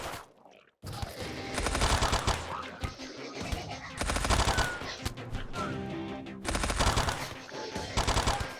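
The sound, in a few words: explosions and gunfire in video game Rimworld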